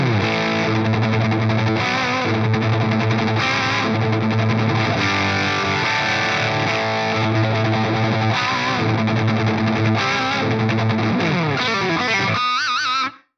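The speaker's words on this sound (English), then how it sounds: "So that's pretty cool with the Distortion Plus into a clean amp." Electric guitar played through a Distortion Plus drive model into a clean amp, giving a loud, continuously distorted tone with sustained chords and notes that ring steadily before cutting off abruptly at the end.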